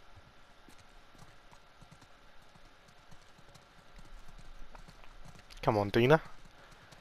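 Horse hooves clip-clopping in The Last of Us Part 2, faint steady steps on the ground, followed by a brief horse snort or whinny near the end, with a voice speaking over it.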